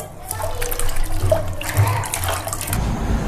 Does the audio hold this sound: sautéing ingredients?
no